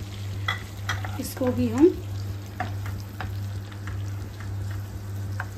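Chopped onion dropped into hot butter and oil on full flame, a steady sizzle with a brief louder burst and stirring scrapes, under a constant low hum and a few quiet spoken words.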